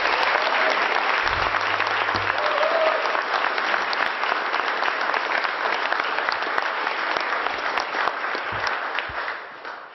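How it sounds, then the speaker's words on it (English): A crowd applauds at a swearing-in ceremony for police commissioners, sustained clapping with a brief voice early on, gradually thinning and fading toward the end. "Let's give both of them a big round of applause"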